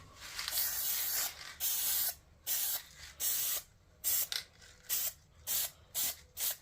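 Short bursts of black spray paint hissing lightly onto wood, about a dozen light puffs in an uneven rhythm with brief pauses between, close and fairly quiet.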